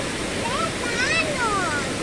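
A waterfall roars in a continuous broadband rush of falling water, steady and fairly near, while faint voices rise and fall briefly over the top.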